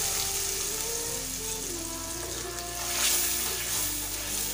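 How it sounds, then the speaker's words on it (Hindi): Bay leaf, cumin, red chilli powder and ground spices fry in mustard oil in a kadai, giving a continuous close sizzle with a soft bubbling hiss that swells briefly partway through. "एक कढ़ाई में हम सरसों का तेल डालेंगे, तेजपत्ता और जीरा डालेंगे, लाल मिर्च पाउडर डालेंगे और सभी पीसे हुए मसालों को डालेंगे"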